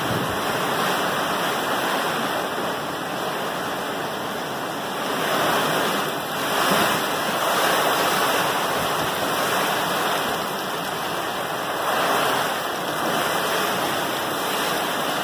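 Strong typhoon wind of Typhoon Ulysses in Angeles City, Pampanga, roaring continuously and loudly, surging in gusts around 6 to 8 seconds and again near 12 seconds.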